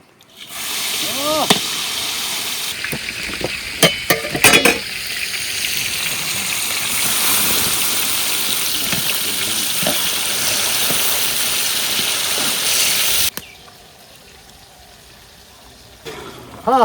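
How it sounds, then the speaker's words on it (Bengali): Koi fish fries in hot oil with a steady, crackling sizzle under occasional talk, then the hiss cuts off abruptly near the end. "আমার মাছটা ভাজা হয়ে গেছে তুলে ফেলা দিলাম"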